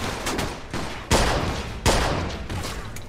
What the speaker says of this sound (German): Haben die da Maschinengewehr?